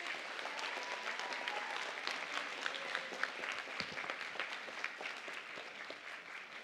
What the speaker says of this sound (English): I want y'all to give her a round of applause